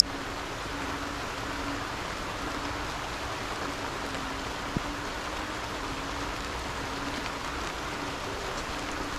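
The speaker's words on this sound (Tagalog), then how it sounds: "Kasi yung tunog ng ulan mga tol, sobrang lakas." Heavy rain pours steadily outdoors near a house at night, a dense, even hiss that fills the whole stretch with no pauses and no voices.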